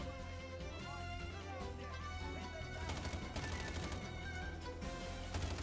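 Continuous gunfire in Sniper Ghost Warrior Contracts crackles under a dense, loud mix of music and effects, with rapid shots clustering toward the end.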